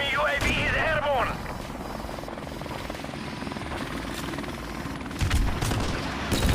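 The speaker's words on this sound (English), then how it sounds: "Friendly helicopter on the way!" A friendly helicopter in Call of Duty Modern Warfare Remastered multiplayer, a steady rotor drone under an announcer's voice and game effects, with a brief boom near the end.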